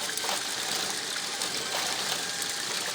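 Water rushing steadily through sluice box mats on a gold-mining wash, a constant dense gushing and splashing, loud and close throughout with no talk.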